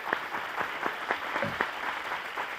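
An audience applauds contestants on a Spanish television game show, a steady wash of clapping with distinct individual claps poking through, moderately loud and continuous with no talking.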